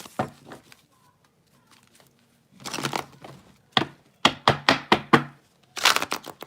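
Tarot cards being shuffled by hand come in short, crisp riffling bursts separated by pauses, close and fairly quiet, with no talking.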